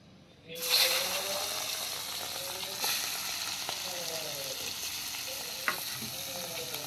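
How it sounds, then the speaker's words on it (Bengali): Fish frying in hot oil after potatoes, a sudden loud sizzle that starts as the fish goes into the pan and holds as a steady crackle, with a few sharp pops and stirring scrapes. "আর একটু তেল দিয়ে মাছটাকে ভেজে নিতে হবে"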